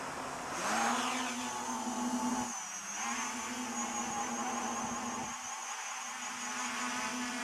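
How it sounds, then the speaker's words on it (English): Quadcopter motors in a short garden hover, with a steady, nasal, whirring hum that dips and swells twice, making a slight pulsing, faint and without speech. "You can probably hear the motors pulsing slightly"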